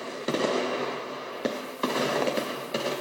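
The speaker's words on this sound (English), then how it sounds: "Anti-Gaddafi fighters unleashed heavy fire on Gaddafi's hometown from the western side." Heavy gunfire in the battle for Sirte, Libya: a dense, continuous crackle of weapons fire with several sharper loud bursts standing out, all close and sustained, with no talking.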